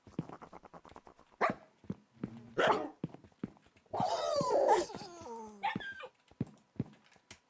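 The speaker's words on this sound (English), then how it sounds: "I don't know what dog sounds they added, but they're kind of a little cursed, honestly." Dogs barking in the Minecraft video game: a pack of in-game dogs sits crowded on stairs and lets out many short, sharp barks, yelps and whimpers in quick irregular bursts, some overlapping into a noisy cluster, close and fairly loud.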